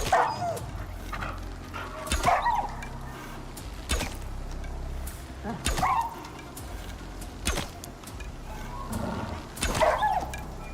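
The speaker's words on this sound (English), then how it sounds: "Did I hear another growl? Or was that the same wolf?" Video game wolves growl and bark in repeated bursts, roughly every two seconds, sharp close yelps and snarls standing out over a continuous low ambient hum.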